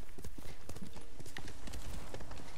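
A horse's hooves clip-clop in quick, steady rhythm in the samurai game Ghost of Tsushima, close and continuous at moderate loudness with faint game ambience around it.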